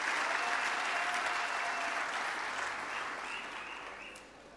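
A large audience at the G20 social summit claps in a full, continuous roll of applause that stays level and then gradually fades toward the close.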